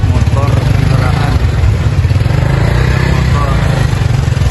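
Motorcycles and other vehicles pass steadily outside a mosque in Bandung after Friday prayers, a continuous nearby engine rumble with street voices mixed in.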